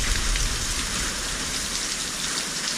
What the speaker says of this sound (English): It's pouring.